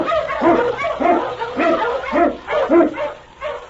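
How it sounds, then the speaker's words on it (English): King, an Eskimo lead dog, barks in a rapid series of about eight loud, close barks with a slightly whiny, yelping edge in a steady rhythm. "King, the swiftest, strongest of Eskimo lead dogs, blazes the trail through storm and snow"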